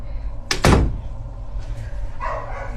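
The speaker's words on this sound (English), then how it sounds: "Look, let me close this door." A door pushed shut inside a quiet house, giving one loud, close thud with a brief rattle, followed by faint room noise and a few soft shuffling sounds.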